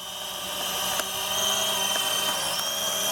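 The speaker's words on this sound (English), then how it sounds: "Gonna go and make it come in for a landing." A Venom Pro GPS streaming drone hovers and descends for a landing at a campsite, its rotors giving a steady, close buzzing whine that holds throughout without any talk.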